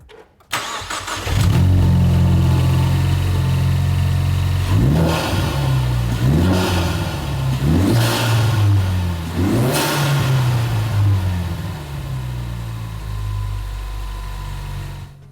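A 2015-2017 Ford Mustang EcoBoost fitted with a Roush Level 1 performance pack cranks and fires, then revs loudly four times in quick, evenly spaced blips before settling to a steady idle, close by.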